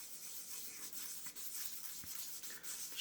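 Sandpaper or abrasive scuffing a shaving brush handle to rough it up for gluing in the knot, a steady close-up rubbing that runs throughout with small bursts of stroke.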